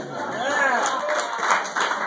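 Stand-up comedy audience applauding and cheering for comedians on stage, a brief, loud, dense burst of clapping with crowd voices mixed in.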